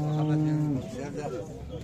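A dairy cow at a livestock bazaar in Nookat lets out one low, drawn-out moo lasting under a second, close by. Market chatter and voices follow in the background.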